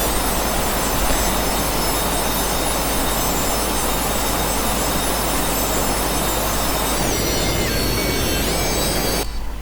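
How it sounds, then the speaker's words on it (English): A heavy Airbus airliner in a Unity mobile airplane game rolls and takes off with a loud, continuous synthetic engine roar and rumble that holds steady before cutting off abruptly at the end. "This Airbus airplane is heavy, guys. It needs longer runway so you can take off with it."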